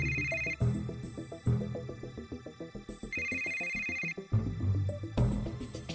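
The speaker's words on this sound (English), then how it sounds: "your phone's ringing." A mobile phone rings in a cutscene of the video game Yakuza, a repeating electronic ringtone in bursts over a melodic musical bed, clear and fairly loud, with no talk.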